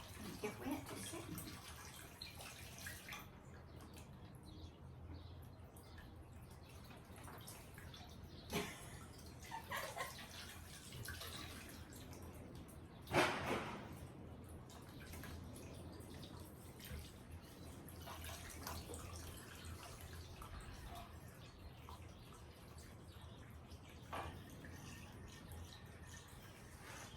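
Water trickles and splashes steadily in a homemade fountain that needs no tools, a soft continuous wash with occasional brighter drips, with faint voices in the background.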